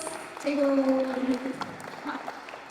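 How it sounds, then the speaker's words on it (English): An audience at a public meeting applauds briefly, with light clapping under a voice speaking and a sustained tone near the start. "round of applause"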